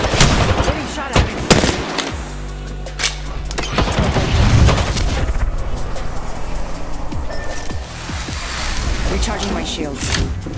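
Apex Legends gunfire from a battle, with bursts of automatic shots and sharp single cracks spread over the whole stretch, loud and dense at the start and easing later, over steady game noise and a constant low hum.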